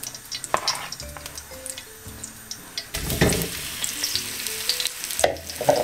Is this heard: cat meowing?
no